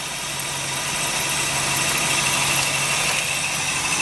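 A 1974 Ford Bronco idles while warming up, with radiator flush in the system and a loose fan belt, a steady loud engine drone with no speech.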